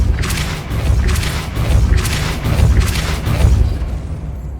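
Repeated magical bursts from casting the Compulso spell in Hogwarts Legacy, four loud booming pulses roughly a second apart with bright crackling tops, steady and close with no talk.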